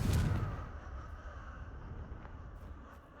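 Confringo spell blast in a video game: a single booming burst at the very start, then a quieter lingering rumble that trails off, fairly soft overall.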